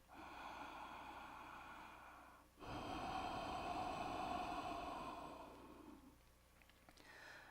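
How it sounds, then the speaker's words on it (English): Loud, audible breathing from participants in a yoga flow class, a steady breathy rush that swells after a brief pause and then gradually fades, with no talking. "breathe loud enough the person next to you can hear you breathing"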